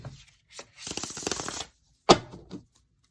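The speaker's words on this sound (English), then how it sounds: "I need 2 more shuffles." A deck of tarot cards is shuffled by hand in short bursts: a quick riffle, a longer run of rapid flutters, then a final sharp shuffle that trails off.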